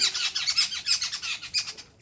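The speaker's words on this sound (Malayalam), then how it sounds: "മറ്റു കിളികൾക്ക് അപകട മുന്നറിയിപ്പ് കൊടുക്കുകയാണ് ഇത്" Jungle babblers scold a cat with harsh alarm calls: a rapid, continuous chatter of rasping squawks from several birds, loud and close with no pauses.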